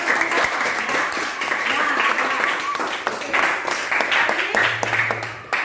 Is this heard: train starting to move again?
no